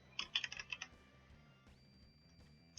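Typing on a computer keyboard while working in Unreal Engine, with a quick burst of several close key clicks followed by a pause and one more tap, quiet and without talk.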